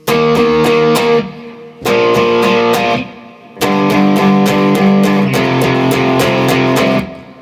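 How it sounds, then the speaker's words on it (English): Heavily distorted electric guitar power chords in three bursts of rhythmic strummed hits, loud and close, separated by brief pauses. "Add a bit of distortion and the first 4 bars go."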